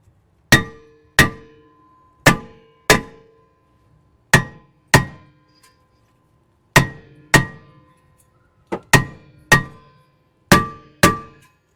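Hammer blows on the face of a 2003-2009 Lexus RX330/350 brake rotor, about sixteen sharp metallic clanks in loose pairs, each ringing briefly, close by with quiet gaps between.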